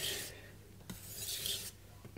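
A kitchen knife rasped back and forth across a Morihei whetstone, two bright grinding strokes with a brief pause between, close and steady with no talking.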